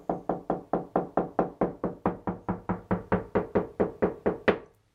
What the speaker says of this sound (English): So you can knock with your finger.